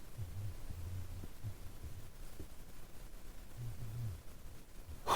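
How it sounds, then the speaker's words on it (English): Pounding heartbeat sound effect, a steady low double-thump throb repeating under a constant hum, with no speech. "I can feel my heart pounding"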